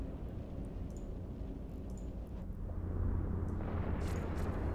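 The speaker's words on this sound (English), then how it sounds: "Missiles are back. Let's start firing." Missiles fire from a ship in EVE Online, a dense rumbling roar with low booming that swells louder toward the end, continuous and without talk.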